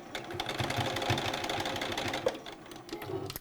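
A sewing machine back stitches a fabric face mask in one continuous close run of fast, even needle chatter, steady and moderately loud, with no talking.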